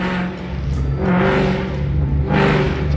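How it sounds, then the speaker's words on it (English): A 1989 Mercury Marquis engine revs hard in repeated surges, its exhaust crackling and popping at each peak, loud and close with no voices. "Blap is that joyous, kind of explosive sound that your exhaust system makes"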